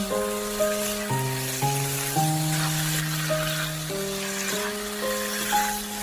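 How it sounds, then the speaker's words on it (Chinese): Potatoes, carrots and zucchini stir-fried in a pan, giving a steady close sizzle and crackle throughout, with light scraping of stirring and a faint tonal hum in the background. "把胡萝卜和西葫芦也加进来，然后继续翻炒均匀"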